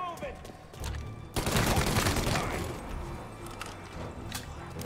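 Tommy gun fire in the Mafia video game, a dense burst of rapid automatic shots about midway, with sharper single cracks and game ambience around it and voices talking over the action.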